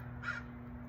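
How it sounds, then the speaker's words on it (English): A single crow caws once in the background, faint and brief against a steady low hum, with no talking. "Crows making sound in the background was what was appearing."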